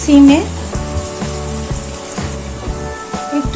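Onion frying and being stirred in a pan for almond chicken, a soft steady sizzle with faint scraping, someone talking over it throughout.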